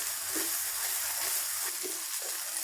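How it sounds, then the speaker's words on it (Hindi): Black pepper roasts in a pan with a close, steady frying hiss and faint stirring movements throughout. "ब्लैक पेपर को हम 2 से 3 मिनट भून लेंगे"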